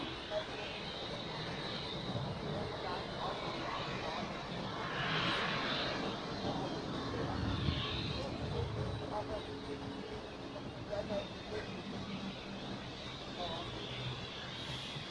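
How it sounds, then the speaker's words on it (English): An Embraer jet arriving at Zurich Airport, its engine roar steady and moderately loud at close range, swelling slightly midway, with a faint voice now and then over the broadband noise. "An Embraer arriving right in front of us."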